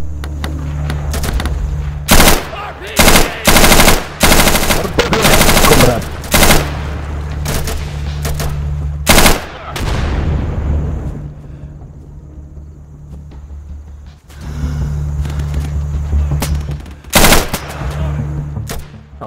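Loud machine gun bursts of suppressing fire in the tactical shooter Insurgency come in sharp, blocky volleys of varying length, split by quieter stretches of rumbling background game noise, with a final few bursts near the end.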